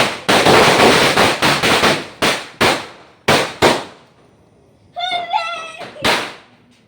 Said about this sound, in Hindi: मम्मी पटाखे जला रही है गाइस।